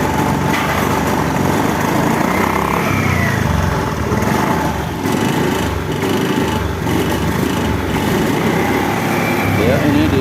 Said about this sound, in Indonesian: Ini digas tidak mau ya, teman-teman. Ini digas berebut parah.